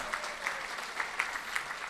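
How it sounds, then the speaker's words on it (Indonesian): Audience at an Indonesian company introduction talk clapping, a steady wash of applause from a room of people that holds at an even level throughout, with faint talk underneath. "Kalau ready ini pembicara ini butuh tepuk tangan yang meriah nih"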